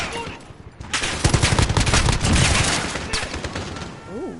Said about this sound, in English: Ooh, somebody's shooting at me.